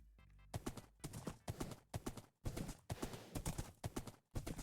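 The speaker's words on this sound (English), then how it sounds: "I think it was the horse, but it kind of sounded like a snake" Quick, sharp rhythmic clip-clops from a Minecraft horse come in a regular series of distinct beats, each separated by brief gaps, with no talking.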